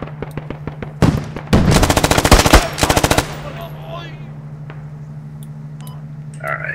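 Automatic gunfire in the video game Squad, with rapid loud bursts of shots in quick series followed by fading echoes and quieter game ambience.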